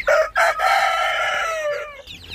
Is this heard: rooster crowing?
yes